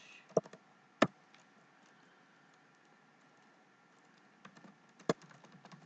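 Sparse keystrokes on a computer keyboard, a few distinct clicks spaced apart over a quiet background hum, soft and close.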